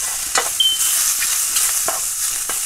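Sweet chili pork and egg fried rice being stir-fried in a pan: a steady high sizzle with several sharp utensil scrapes and clacks as the food is tossed.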